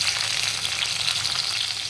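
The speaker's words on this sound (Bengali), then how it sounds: "এবার মাছ ভাজার তেলেই টমেটোগুলি দিয়ে দিচ্ছি।" Tomatoes fry in hot oil left over from frying pabda fish for a mustard curry, a steady, dense sizzle that stays close and even throughout with no voices.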